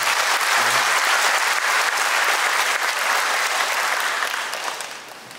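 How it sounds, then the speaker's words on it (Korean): Some 700 residents fill a large performance hall at a provincial governor's town hall meeting, applauding loudly and evenly before the clapping tapers off near the end. "박수 좀 부탁드립니다"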